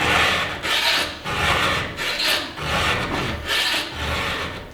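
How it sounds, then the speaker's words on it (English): A hand file rasps across a chainsaw chain in steady, loud strokes, about five even passes with short gaps between them and no talking. "the file is designed that way. It does not file in both directions."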